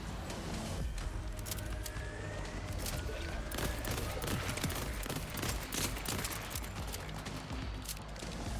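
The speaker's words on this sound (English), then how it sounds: "I think this gun's clip size is a little bit too small to support an SMG mode, especially a burst one like this." Rapid SMG burst fire from a gun in Borderlands 4, a dense, steady stream of sharp cracking shots that carries on for the whole stretch with no talking.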